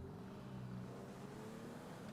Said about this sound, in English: Constant noise. Cars are constantly going by.